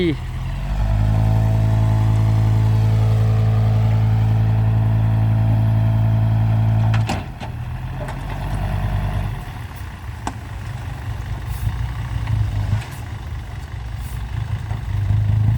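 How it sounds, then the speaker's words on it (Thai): A five-cylinder J07C diesel engine in a six-wheel dump truck runs at a steady, loud drone that cuts out after about seven seconds. A rougher, fluctuating engine rumble with clatter and speech follows near an excavator working a pit. "ตัวนี้ห้าสูบนะครับ อาจจะห้าสูบ JO7C"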